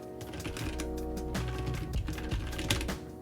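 Rapid clacking keystrokes come from a newly built mechanical keyboard, a first-time build. The typing is dense and continuous, set against a backdrop of steady music, with no one talking.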